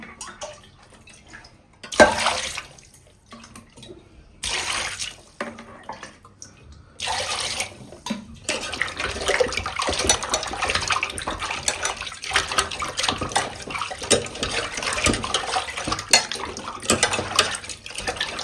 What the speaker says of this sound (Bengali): আরেকটা ধোয়া দেবো, তাহলে হয়ে যাবে মাছ ধোয়া